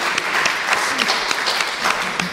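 An audience applauding at a live podcast recording, a loud, close burst of many hands clapping steadily with no pause.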